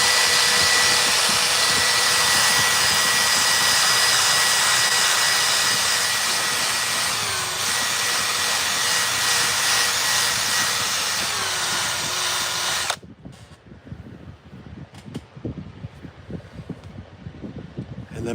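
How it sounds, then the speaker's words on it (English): A steady, loud mechanical whir of a drill with a buffing wheel polishing a guitar part runs continuously for about thirteen seconds, then cuts off abruptly, leaving quieter scattered handling noises. "I have this little buffing wheel that I have with a drill"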